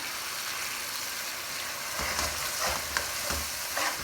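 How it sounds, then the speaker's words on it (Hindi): Masala for chicken tikka karahi is stir-fried over a high flame, a steady close sizzle with a few scraping spoon strokes in the second half. "अब हम 2-3 मिनट तक इस मसाले को भूनेंगे।"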